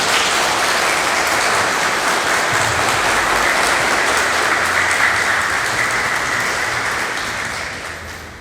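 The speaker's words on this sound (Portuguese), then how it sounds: "eu quero pedir palmas agora nesse momento" Loud, dense audience applause in a Lutheran church in Novo Hamburgo, a sustained wash of many hands clapping that tapers off gradually toward the end.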